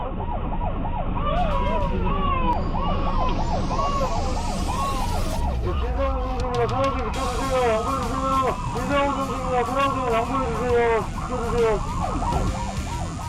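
A wailing police car siren sweeps up and down continuously, loud and close, over dense traffic rumble on a jammed road in Korea, shifting to a faster yelping pattern partway through.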